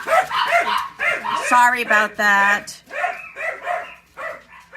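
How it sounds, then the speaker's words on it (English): Several dogs bark in repeated bursts at a home, with harmonic yelps through the middle, while someone talks over and between them. "Oh, the dog's here, other dogs barking."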